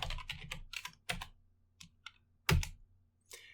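Typing on a computer keyboard while entering Python code, several quick bursts of clicky keystrokes separated by short pauses, close and fairly quiet with no talking.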